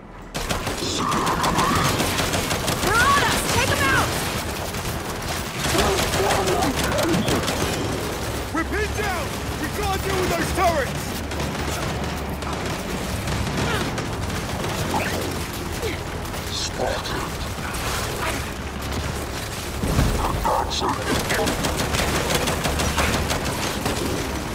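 Gunfire from the Gears 5 video game rattles in steady bursts through a dense, loud mix of battle sounds, with voices talking over the shooting.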